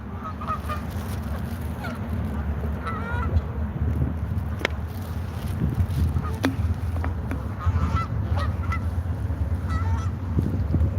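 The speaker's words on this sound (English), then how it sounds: "I'd rather listen to a bunch of damn geese." A flock of geese honks repeatedly, scattered calls overlapping at moderate distance above a steady low outdoor rumble in a Cincinnati street setting.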